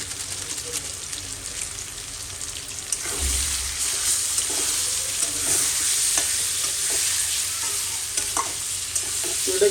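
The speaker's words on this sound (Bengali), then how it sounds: "তো এটাকে এখন এরকমভাবে কষাতে থাকতে হবে।" Chicken curry with pepper powder is stir-fried in a pan, a continuous sizzle with intermittent scraping stirs that grows a little louder partway through, close up, with faint talking in the background.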